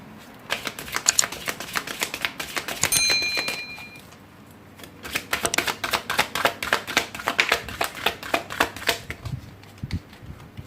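Oracle cards being shuffled by hand and split into two small piles, a run of crisp close riffling clicks and flicks, a short pause, then more rapid shuffling, with no voices.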